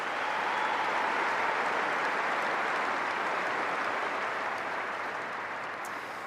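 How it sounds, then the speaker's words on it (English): Sustained audience applause at a tennis tournament ceremony after the women's singles final, a dense even roar of clapping that slowly tapers toward the end, no voices. "Please, let's give them all a round of applause."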